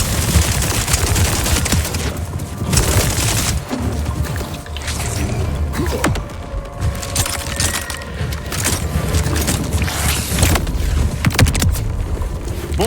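Rapid gunfire from a Vladof weapon in the video game Borderlands 4, sustained bursts of shots crackling over a dense, busy in-game background of effects and music, loud and near for the whole stretch.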